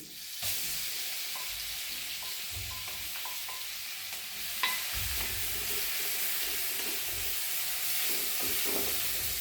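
Ground coconut, garlic and cumin masala paste fries in a pan with curry leaves over low heat, a steady hiss of sizzling with soft stirring scrapes and a brief louder clack midway.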